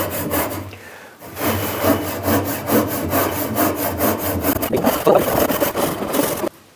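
A hand saw cutting wood with steady, rapid back-and-forth rasping strokes, loud and close, stopping abruptly at the end.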